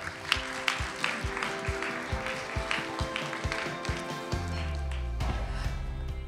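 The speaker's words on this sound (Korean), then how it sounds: "다시 한번 큰 박수 부탁드릴게요" Audience applause at a Seoul arts and culture forum on the climate crisis after a presentation, with scattered sharp claps over a background hum, then a low sustained tone takes over near the end.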